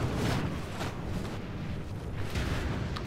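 Massed musket volleys crackle and rumble continuously in a Medieval II Total War battle from the Elder Scrolls Total War mod, a dense, loud wash of gunfire and battle noise with no voices.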